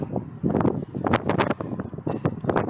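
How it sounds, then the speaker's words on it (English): Gusty wind buffets the microphone in an open harbor stadium, a loud, uneven rushing roar that surges and dips in bursts through the whole clip. "With the wind, hopefully it's not bothering you too much."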